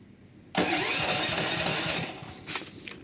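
A portable generator is cranked with its key but fails to start. The starter grinds loudly for about a second and a half and cuts off, then gives one brief second crank.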